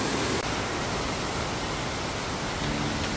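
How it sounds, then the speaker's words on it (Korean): Mountain valley stream water at Yumyeong Valley in Gapyeong, where a stream from the summit joins the main valley, rushes in a steady, dense broadband roar, close and constant with no voices. "유명계곡으로 내려가는 계곡의 물이 바로 여기서 합류를 합니다"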